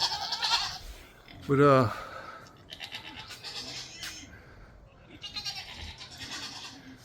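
A goat gives a loud, wavering bleat near the mic, with someone talking before and after it and faint farm noise in the background.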